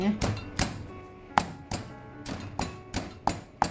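Coriander is pounded in a stone mortar with a pestle, giving a series of sharp, close thuds at an irregular rhythm of roughly two or three strikes per second.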